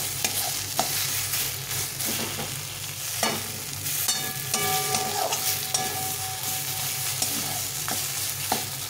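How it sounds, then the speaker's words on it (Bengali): Masala is stir-fried dry over high heat, with a continuous sizzle and repeated scraping, stirring strokes of a spatula against the pan throughout, close and fairly loud. "হিটটা বাড়িয়ে দিয়ে কষিয়ে নিতে হবে। যতক্ষণ জল থাকবে ততক্ষণ এটাকে শুকনো করে কষিয়ে নিতে হবে।"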